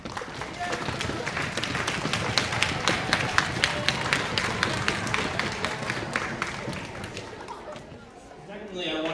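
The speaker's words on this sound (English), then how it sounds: "let's all of us give them a round of applause" Applause from the audience at a junior high school spring orchestra concert: sustained, even clapping from a large crowd in a hall that carries steadily for several seconds before tapering off.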